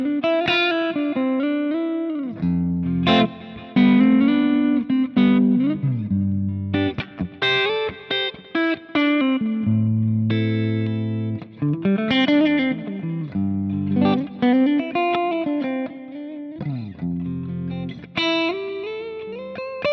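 A high-gain electric guitar amp tone with the reverb turned up carries distorted chords and ringing single notes in a loud, continuous twenty-second passage, with no voices.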